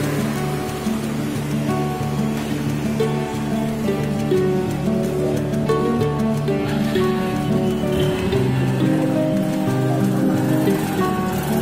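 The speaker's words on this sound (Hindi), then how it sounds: "बारिश शुरू हो गई है" Rain beginning to fall under cloudy skies makes a steady, dense hiss and patter that stays fairly loud and even throughout, with no voices.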